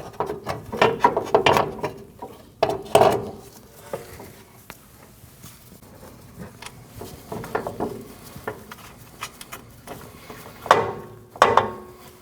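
Nuts are tightened onto a strut top mount on a Nissan NV2500, heard as bursts of close ratcheting clicks and metallic knocks separated by quieter pauses.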